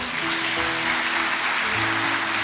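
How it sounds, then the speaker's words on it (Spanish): A church congregation applauding, a dense, continuous wash of many hands clapping at fairly loud level, with faint tones from music underneath. "Vamos, démosle un fuerte aplauso al Señor"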